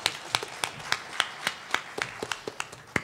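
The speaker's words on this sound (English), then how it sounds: "So give Mason a round of applause for that" Sparse applause at a hurricane-preparedness panel event, a handful of distinct, fairly quiet individual claps spaced irregularly, sounding like only a few people in the room clapping.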